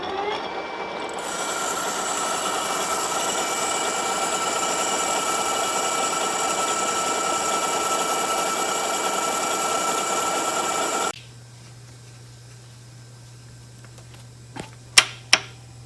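A machining cut opens a hole of about 1 7/16 inches in a custom buggy component, giving a steady, loud grinding whir for about eleven seconds. The cut then stops abruptly, leaving a low hum and a few sharp clanks.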